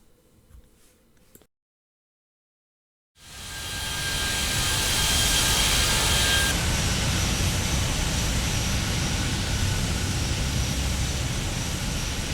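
Simulated Airbus A320 jet taking off from runway 07 left: after a short quiet gap, a loud, steady engine roar swells up and holds, broad and rushing, with no voices.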